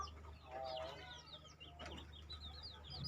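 Young chicks in a breeding coop peep and cheep in thin high chirps, scattered calls overlapping at close range above a faint steady hum.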